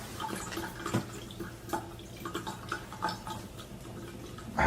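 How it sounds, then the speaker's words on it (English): Water drips from an old sink in an old building, irregular soft taps and trickles echoing close by in an otherwise quiet room. "Oh, it's just the sink."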